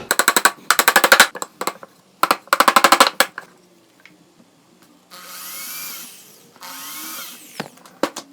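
A power drill bores a hole in recycled pallet wood: two clusters of rapid, loud, rattling bursts, a few short stabs, then two longer, smoother whirring runs.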